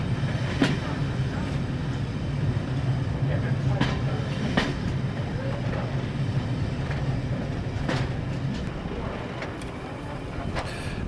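Heritage steam train on the Battlefield Line railway, heard from aboard as a continuous low rumble with sharp rhythmic clicks of wheels over rail joints at irregular intervals.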